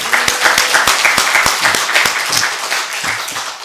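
Congregation applauding in a church service, a steady burst of dense handclaps with sharp individual claps standing out, loud and fairly close throughout.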